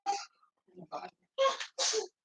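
A single quick sneeze among short voiced bursts, with brief talk around it in a quiet room.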